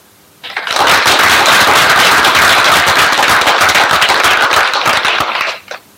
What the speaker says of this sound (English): And applause for the negative team.